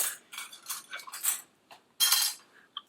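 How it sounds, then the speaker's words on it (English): A flimsy knife, fork and spoon from a Jordanian 24-hour ration handled close up, a few light scattered clinks and rustles with a brief quiet gap, then a final crisp clatter. "Just a plain napkin, knife, fork, spoon, pretty flimsy."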